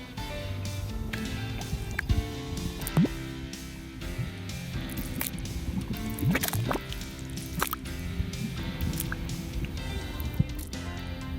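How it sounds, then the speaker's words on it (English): Mud volcano bubbling and shifting, thick wet pops, drips and gloppy bursts arriving irregularly up close, with a low murky churn underneath. "This is a mud volcano, always bubbling and shifting with constant movement."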